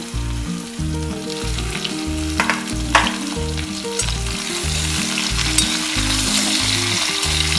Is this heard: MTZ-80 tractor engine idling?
no